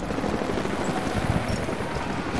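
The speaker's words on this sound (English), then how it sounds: "Jacob, helicopters are headed your way." Helicopters approaching in Rise of the Tomb Raider, a steady loud rotor thrum and rumble filling the whole moment without pause.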